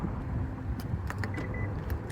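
A 2026 Genesis GV70 2.5 Sport's door unlocks as a hand slips into the handle, giving a few short, close mechanical clicks and a faint chirp over a steady low outdoor rumble, with no talking.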